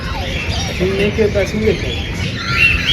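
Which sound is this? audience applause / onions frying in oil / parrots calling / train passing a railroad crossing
parrots calling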